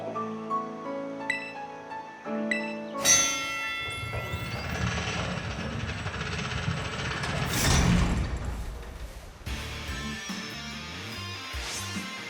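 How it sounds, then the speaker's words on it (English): A bell rung in the Pokemon Violet video game, with chiming game music tones, then a dense clanging burst of ringing and mechanical noise before the music returns. "ring that bell"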